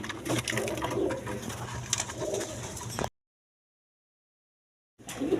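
A pair of pigeons for sale at a breeder's, cooing softly and repeatedly close by, then a pause of silence before the cooing resumes.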